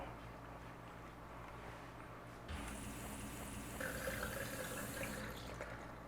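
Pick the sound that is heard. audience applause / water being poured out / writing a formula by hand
water being poured out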